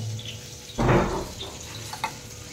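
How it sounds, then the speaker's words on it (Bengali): Ground mustard water is strained for a hilsa fish curry: one brief close splash of liquid pouring through, then a couple of faint drips and clinks against a quiet kitchen background. "এটা আমি এই যে একটু ছেঁকে নেব।"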